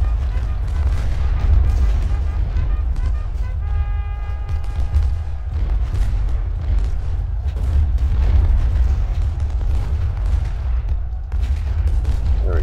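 Continuous rumbling battle din from Ultimate General: Civil War, with heavy booms of artillery and rolling musket gunfire layered throughout, loud and dense with no clear breaks, and a voice talking faintly underneath.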